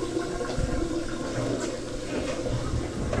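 A warehouse bathroom toilet flushes during clogged-drain cleanout work, a loud, close, continuous rush of water draining and refilling the bowl throughout.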